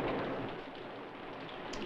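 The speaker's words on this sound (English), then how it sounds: "Oh, dear, it's raining." Steady rain pours down in a dense, continuous hiss, loud and close, with a low rumble underneath and no voices.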